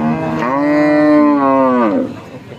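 A cow lowing once at a cattle market, a loud, close, drawn-out moo that holds steady for over a second before trailing off, with no talk over it.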